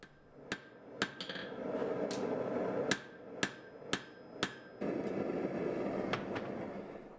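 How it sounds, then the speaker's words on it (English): Hammer blows forging a Damascus steel double-edged dagger blade, an Arkansas toothpick, with sharp ringing strikes spaced irregularly, about a dozen, over a roaring forge or furnace background; close and loud, no talking. "forging down the corners as well so it's we don't have any sharp uh, um, angles on it"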